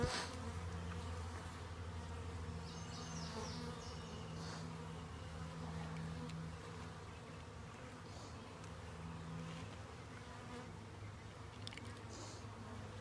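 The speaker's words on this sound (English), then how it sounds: "Now these bees are raring to go." Package bees buzz steadily during installation into a hive, a soft continuous hum from many insects with no talk over it.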